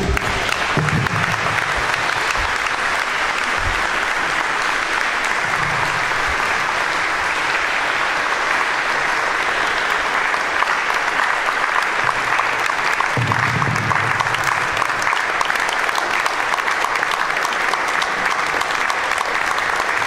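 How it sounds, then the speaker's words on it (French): Sustained, loud audience applause at a memorial tribute for Fernand Nardi, a dense steady wash of clapping lasting the full stretch with faint voices underneath. "faire quelques secondes d'applaudissements nourris"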